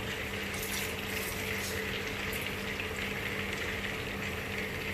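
Strained juice is poured into a simmering fish curry in a pot, giving a steady, soft rushing trickle with a bubbling hiss underneath. The sound runs evenly throughout and stays moderately quiet.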